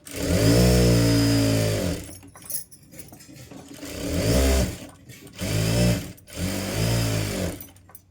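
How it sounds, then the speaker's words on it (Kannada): A sewing machine double-stitches pieces of blouse fabric for a katori blouse in loud, whirring runs: a long burst, a short pause, then three more bursts separated by brief gaps. "ಒಂದು ಅರ್ಧ ಇಂಚಿಗೆ ಸ್ಟಿಚ್ ಮಾಡ್ಕೋಬೇಕು ಡಬಲ್ ಸ್ಟಿಚ್ ಹಾಕ್ಕೊಳ್ಳಿ"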